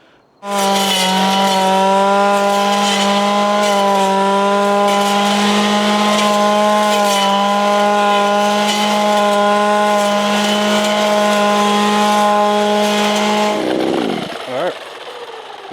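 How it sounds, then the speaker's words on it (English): A VEVOR 4-in-1 compact gas trimmer fitted as a hedge trimmer runs at a steady high-revving buzz for about thirteen seconds, loud and close. It then cuts off abruptly with a falling whine. "hedge trimmer works pretty darn well once we tune it"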